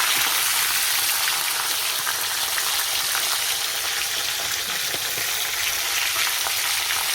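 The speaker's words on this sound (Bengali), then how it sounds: "মাথা দুটো ভেজে নিয়েছি ভালো করে, এবার তুলে নিচ্ছি।" Two fish heads fry in hot oil, a steady dense sizzle crackling close and loud throughout with no voices.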